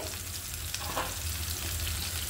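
Onion frying in a pan while Wai Wai noodles are being made, a continuous close crackling sizzle with no talking.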